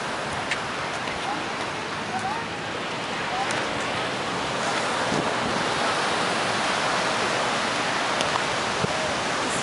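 Ocean surf rolls in at Main Beach in Laguna Beach, California: a steady, broad wash of breaking waves with wind noise on the microphone, continuous and fairly loud with no distinct pauses.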